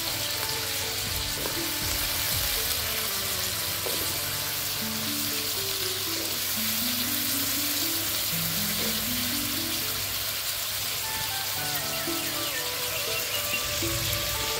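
Goat liver and potato frying in mustard oil sizzle steadily in a pan, a continuous close hiss throughout, with faint background music running underneath and no speech.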